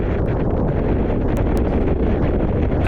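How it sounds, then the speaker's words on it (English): A near-70-knot storm wind blows across the deck of a sailing boat at sea, a loud, constant roar that buffets the microphone without letup. "And when it is that windy as well, it just flattens the sea."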